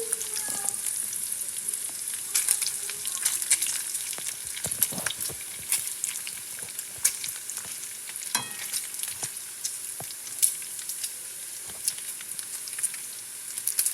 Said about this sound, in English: see how that fat juice is kind of deep frying our bacon